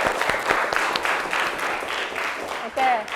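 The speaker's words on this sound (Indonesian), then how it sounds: "aplaus untuk temannya." Classroom applause for a student after she answers a question, a steady patter of many hands clapping for about three seconds, with a brief voice at the end.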